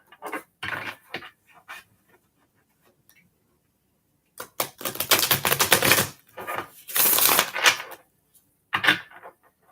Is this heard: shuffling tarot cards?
yes